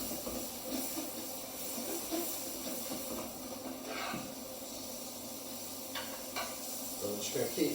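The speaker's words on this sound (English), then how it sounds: "I'm going to throw some butter into the pan. And that, as you can hear, it's sizzling away" Quiet, steady sizzling and hissing of butter frying in a pan on high heat while chicken is turned for chicken milanese, with faint clinks and stirring sounds throughout.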